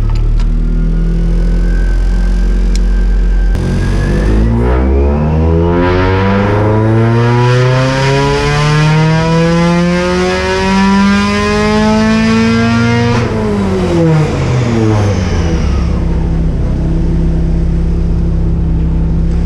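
A naturally aspirated Mazda Miata track car strapped to a dyno during a tuning pull, its engine roaring loudly and steadily climbing in pitch through the revs, then easing back down at the end.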